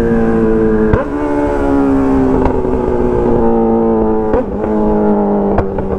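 A loud Honda Hornet motorcycle engine revs steadily close by, broken by several sharp crackling pops from the exhaust, which is shooting flames.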